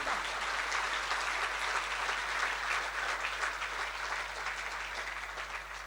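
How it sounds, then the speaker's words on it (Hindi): Hall full of students and faculty at an institute inauguration clapping loudly, a thick steady applause that slowly eases toward the end, with a low hum beneath. "मैं अपनी फैकल्टी मेंबर से, अपने सभी साथियों से और आपसे भी एक बार जोरदार तालियां चाहूंगा"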